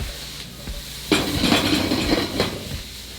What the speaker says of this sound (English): Nice saute.